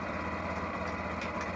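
A Lifan KPM200 motorcycle engine idles steadily, with a low, even rumble that runs unbroken and close throughout.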